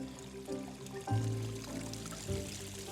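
Water pours and splashes steadily down a koi pond waterfall once the pump is running, a continuous close rushing flow that swells slightly partway through.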